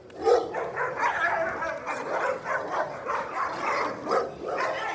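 Dogs fight among themselves outside a residential area, barking, yipping and snarling in quick overlapping bursts at moderate distance for the whole stretch, with no talking.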